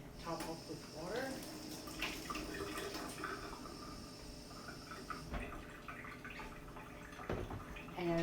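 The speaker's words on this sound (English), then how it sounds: "Top up with water." Water is poured to top up a jar of ginger bug soda, a faint trickle and splash. A voice speaks quietly over it.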